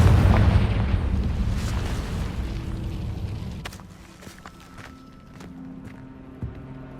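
A booming magical blast from the Confringo spell in Hogwarts Legacy, a loud low rumbling explosion that fades over several seconds into scattered debris clatter and light footsteps.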